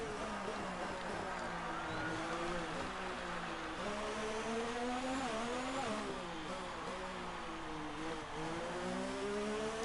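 An F1 car engine in the F1 2019 video game, racing a Haas at the Abu Dhabi Grand Prix, drones steadily with its pitch rising and falling through shifts and corners for the whole stretch.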